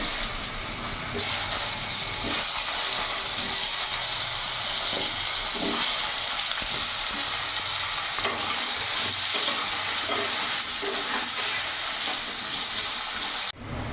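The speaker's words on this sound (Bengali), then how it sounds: "ওই তেলের মধ্যে এবার এই লম্বা লম্বা আলুগুলো ভেজে নেবো" Long-cut potato pieces fry in hot oil, a loud steady sizzle and hiss running throughout with occasional stirring knocks, cutting off abruptly at the end.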